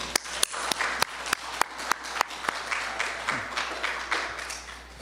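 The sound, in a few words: church congregation applause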